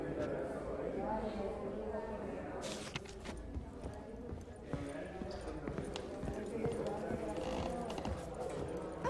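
Horse hooves clip-clop in The Witcher 3 game, a steady run of close, distinct hoof strikes under continuous voices and background game noise.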